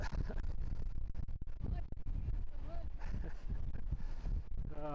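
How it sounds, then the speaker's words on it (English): Loud wind buffets the microphone in steady roaring gusts, with people talking over it throughout. "It's a bit windy, eh?"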